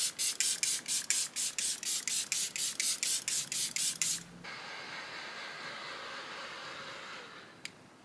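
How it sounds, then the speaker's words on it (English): Fenty Beauty setting spray mists out in a quick run of about fifteen short, close, evenly spaced hissing pumps, followed by a softer continuous hiss and a faint click. "I'm gonna use another setting spray on top of the one I just used"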